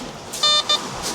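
A metal detector on a British foreshore gives two short electronic beeps on a signal, a longer tone then a brief second one, close and clear over wind and background noise.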